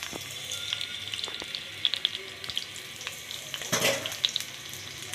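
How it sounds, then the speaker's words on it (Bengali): Onions fry in regular cooking oil in a pot with a steady, close crackling sizzle. A few soft stirring knocks sound, with a brief louder burst near the end. "পেঁয়াজ দিয়ে দিব, পেঁয়াজটা আমি একটু ভেজে নিব।"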